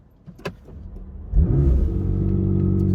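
A 2022 McLaren 720s Spider supercar convertible engine fires up after a couple of faint clicks, a loud deep rumble surging in at once and settling into a steady, powerful idle close by.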